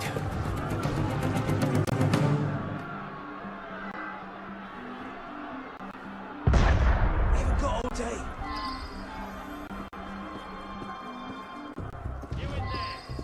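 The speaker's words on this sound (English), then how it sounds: "That was cannon fire." Cannon fire in Assassin's Creed Unity: one sudden heavy boom with a rumbling decay stands out partway through, set among game noise and voices.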